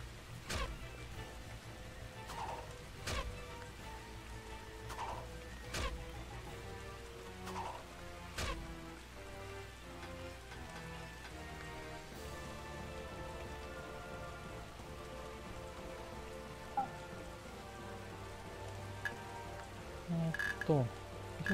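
Steady rain falls in the Sengoku-era strategy game Taiko Risshiden V DX, a soft continuous patter running under game music with occasional sharp percussive hits.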